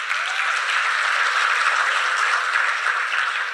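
Audience applause fills a hall during a business seminar, a dense, steady wash of many hands clapping at even loudness throughout, with no voices over it.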